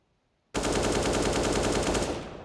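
A continuous, loud automatic weapon spray fires through smoke in a Counter-Strike match on Dust2, a steady rapid burst lasting about two seconds that begins abruptly after silence and tails off slightly at the end.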